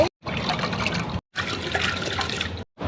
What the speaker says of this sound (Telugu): ఇదిగో వాటర్ పోసాము